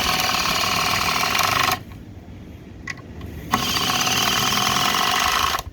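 A Milwaukee M18 Surge impact driver runs in two loud, steady bursts with a brief quiet gap between them, a smooth, dense mechanical whir with no voices.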